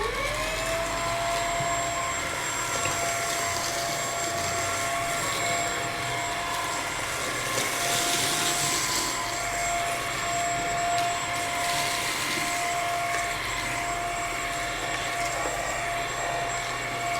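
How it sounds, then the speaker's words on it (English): A Bissell CleanView XR Pet vacuum cleaner runs on its medium setting with a steady, loud whining motor drone and airflow hiss, unchanging throughout and alone without talk. "I really like how light this vacuum is and how much power it actually has."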